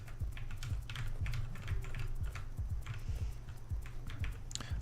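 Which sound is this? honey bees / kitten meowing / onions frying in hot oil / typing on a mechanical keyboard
typing on a mechanical keyboard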